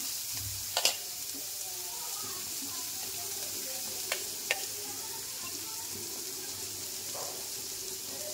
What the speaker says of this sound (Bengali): আদা দিয়ে দিলাম